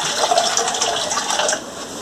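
Running water splashes into a bowl that held seasoning for pressure-cooked beef, a close, continuous rinsing gush that eases slightly near the end.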